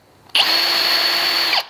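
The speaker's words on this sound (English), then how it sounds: "find a spot where I'm going to inject with very little pressure on my drill." A power drill with a brad point bit bores into a tree trunk, a loud, steady high whine that starts abruptly, holds for just over a second under light pressure, then cuts off sharply.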